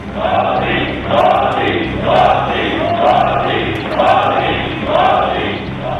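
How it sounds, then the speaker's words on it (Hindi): Members of the Lok Sabha in Parliament chant a rhythmic two-beat "Modi, Modi" slogan in unison while thumping their desks, the loud crowd chant swelling in repeated waves roughly once a second. "प्रधानमंत्री ने जैसे ही पार्लियामेंट में एंट्री ली, पूरा सदन मोदी मोदी के नारे से गूंज उठा।"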